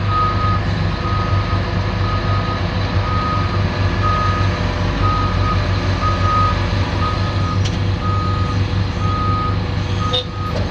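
Land-clearing machine backing up during logging work, its reversing alarm beeping in a steady evenly spaced pattern over a constant loud diesel engine drone, with no talk.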